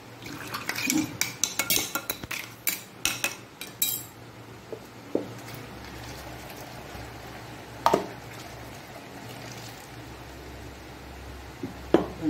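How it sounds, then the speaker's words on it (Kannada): A spoon stirs Mangalorean basale sambar in a metal pot, giving a burst of quick clinking scrapes at the start and then sparse knocks and clinks over a soft simmering background. "ಚೆನ್ನಾಗಿ ತಿರುಗಿಸ್ಕೊಳ್ಳೋಣ"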